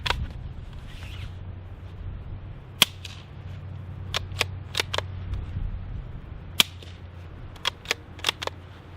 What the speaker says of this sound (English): So we've got the Dead Air mask on our Savage B22 with some subsonic ammo.